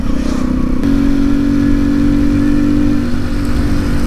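A BMW motorcycle engine drones loudly and close, holding a strong steady tone as it pulls hard under acceleration, with no voices over it.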